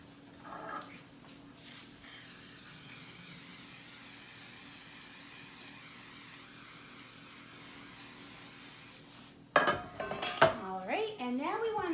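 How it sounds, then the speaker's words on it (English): Cooking spray hisses onto a muffin tin in one steady, close burst lasting about seven seconds, after light kitchen clatter, followed by a person speaking. "next up we want to spray our muffin tins."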